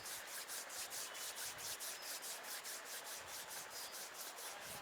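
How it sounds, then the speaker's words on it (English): Palms of the hands rubbing gently together at chest level, a soft continuous swishing friction with a steady back-and-forth rhythm, close and quiet, with no voices. "bring the palms of your hands together at chest level. Rub them gently against each other."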